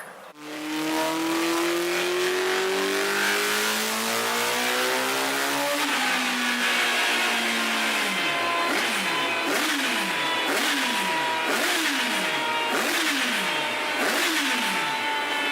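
A car engine revs hard and climbs through several gears, each shift dropping the pitch before it winds up again, loud and continuous.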